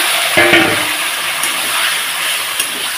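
Half a bowl of water hits frying masala for a bata fish curry with raw banana and potato, setting off a loud, rushing hiss and sizzle that keeps going with a few light clinks.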